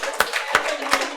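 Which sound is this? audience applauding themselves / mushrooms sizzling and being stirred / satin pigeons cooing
audience applauding themselves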